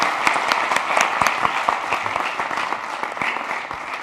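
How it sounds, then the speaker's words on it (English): An audience applauds a guest speaker after an energy transitions talk, many hands clapping close and loud in a brisk, even stream with distinct individual claps, sustained to the end. "Let's give another applause to our guest."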